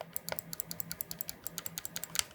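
Rapid run of soft, dampened clicks from a Logitech G7 Pro mouse, about twenty short muted taps in quick rhythm, close and quiet with no talking.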